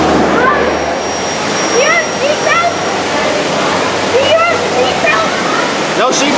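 Log flume ride rushing and splashing through water, a loud steady roar of churning water throughout, with riders' voices and shouts mixed over it.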